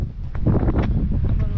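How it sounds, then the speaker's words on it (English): Wind blows hard at the Cape Reinga lighthouse in New Zealand, a loud low buffeting roar against the microphone that swells across the short moment. "It's a little bit windy, how you can see, but it's beautiful."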